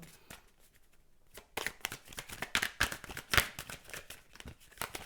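A deck of cards is shuffled for a cartomancy reading, with rapid riffling bursts and crisp flicks that start quietly and then grow into dense, close, repeated shuffles.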